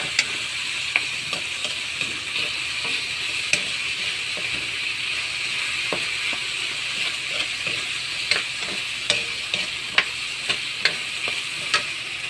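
Vegetables and bamboo shoots stir-fried with oyster sauce in a home kitchen pan, sizzling steadily throughout with sharp, irregular scrapes and clacks of the spatula stirring, close and alone with no talking.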